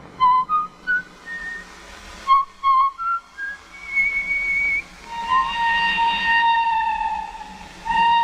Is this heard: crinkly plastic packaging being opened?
no